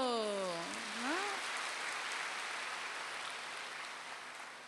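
Broad, steady hiss of a large audience clapping at a spiritual talk, starting at once and continuing for several seconds, briefly overlapping a voice at the start.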